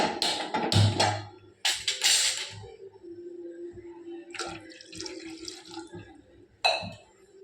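Water splashes and trickles into a vessel, four tumblers poured for cooking, with clinks of glass or metal and a steady running flow, close by and without talking.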